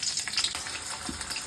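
Garlic fries in refined oil in a wok, giving a brief, soft, steady sizzle close by.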